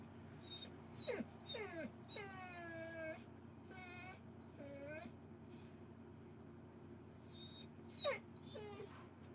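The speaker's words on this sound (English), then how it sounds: "Please don't escalate to the next stage in this whining where you start the barking pitch thingy in my ear." A dog whines and moans in long, rising and falling high-pitched cries, several drawn-out wails close to the listener with brief pauses between, and a steady low hum beneath.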